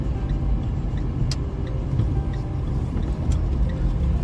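A car idles and rolls slowly through a U-turn on a driving test route, a low steady engine rumble close by with faint ticking, no voices.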